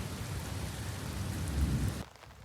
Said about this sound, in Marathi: पाऊस जाम गडारलाय